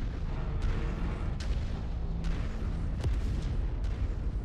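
Artillery fire in the MechWarrior 5 video game: repeated deep booms and sharp blasts land every second or so over a continuous low rumble of battle, loud and close.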